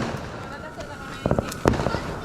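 Fireworks burst on Raya night, with a couple of sharp cracking pops standing out over a busy background of voices and crowd noise.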